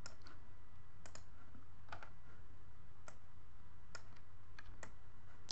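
Sparse, sharp clicks of a computer mouse being operated while working in the Unity editor, about one or two a second, close and clear over a low steady room hum.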